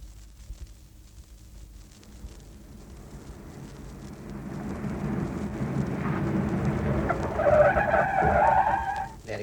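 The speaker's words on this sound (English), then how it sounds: "That's his car in the station forecourt" A car rumbles and swells closer into a station forecourt, engine and tyre noise rising steadily to a loud peak near the end, staged as a radio drama effect with no voices.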